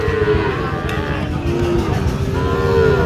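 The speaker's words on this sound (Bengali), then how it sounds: "দুইটি কিন্তু সাইওয়াল জাতের গরু" Sahiwal cattle at a rural livestock market give several drawn-out moos over a constant background of crowd chatter and market bustle.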